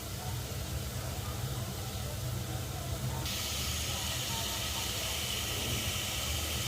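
Shol fish and bottle gourd sautéing in spice paste of salt, coriander, chili, turmeric, ginger, garlic, cumin and onion, a steady loud hiss and sizzle throughout that grows brighter and harsher midway.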